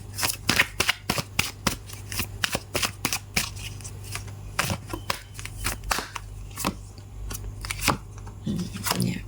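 Oracle cards being shuffled in a tarot-style reading, a quick run of crisp riffling flicks and taps, close and fairly loud, repeating irregularly with no voices.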